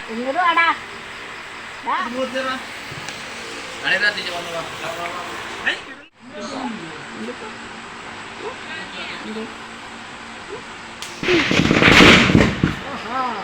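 Firecrackers burst during Vishu celebrations amid ongoing talk and shouting, with a loud crackling flurry near the end standing out above the voices.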